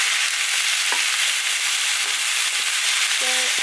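Zucchini and beef stir-fry sizzles steadily in a pan, a loud, constant frying hiss with a few faint utensil taps, close up and with no voices.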